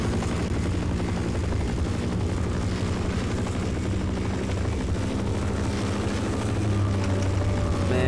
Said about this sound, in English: This chopper never goes away, it's so annoying.